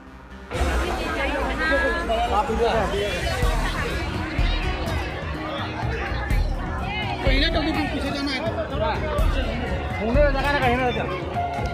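Dense crowd chatter fills a large outdoor healing prayer gathering led by a prophet in Simdega, a steady loud babble of many voices mixed with movement, continuous throughout.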